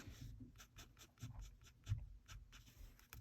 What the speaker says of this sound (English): this is just going to be a few flicks with the Posca